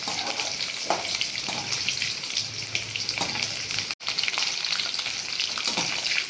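Garlic sizzles in hot oil in a pan for a garlic kuzhambu, a steady close hiss and crackle with a brief dropout midway.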